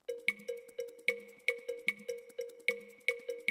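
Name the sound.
cowbell percussion in a mix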